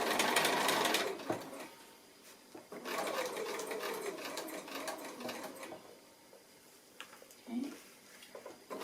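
Sewing machine stitching a foundation-pieced quilt block, loud close bursts of rapid needle chatter that start and stop, with pauses and brief handling noises between runs.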